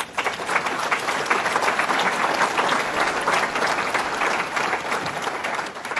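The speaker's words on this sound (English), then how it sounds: "and yes, we can clap on that." Dense, sustained audience applause at a governor's public announcement on Buffalo's water, strong and even for several seconds with little speech.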